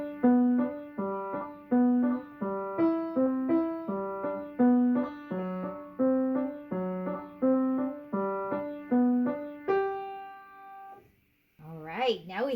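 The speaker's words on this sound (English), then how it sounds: "Bass lines consisting of broken, or arpeggiated chords," Piano plays an Alberti bass of repeating broken-chord patterns in a flowing, even rhythm, ending on a held chord before a short bit of speech.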